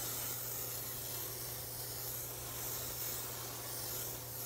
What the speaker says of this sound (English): And just spray around.